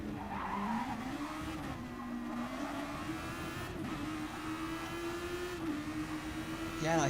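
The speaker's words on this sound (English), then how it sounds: "You heard the tyres really screeching." Tyres screeching at Suzuka Circuit in a sim racing game, a sustained high squeal over a droning race car engine, with a commentator talking throughout.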